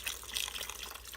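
Swanson beef broth pours into an Instant Pot, a soft steady splashing liquid stream, faint and continuous for the whole moment with no talking.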